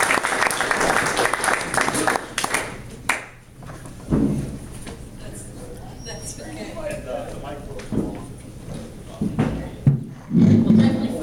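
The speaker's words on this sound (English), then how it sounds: "Let's give her a round of applause." Audience applause welcoming a guest speaker, Karen Cook, to an evening dinner event, a dense patter of clapping that swells and fades in waves, with brief bursts of talk and laughter mixed in near the end.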